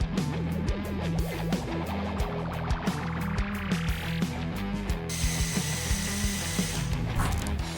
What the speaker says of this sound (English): we're drilling holes in the frame itself.